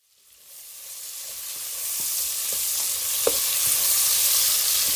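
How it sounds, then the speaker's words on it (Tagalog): Squid sautéing with ginger, onion and garlic in a pan for adobong pusit, a sizzle that swells from silence into a steady loud hiss with faint stirring clicks, no voices. "Gisahin mo lang yan ng maigi at ilagay ang mga pusit."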